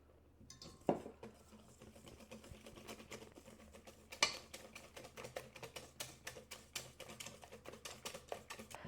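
Hand whisking of blueberry bun batter in a bowl, a quiet steady stream of rapid tapping and scraping strokes, with a couple of louder knocks against the bowl.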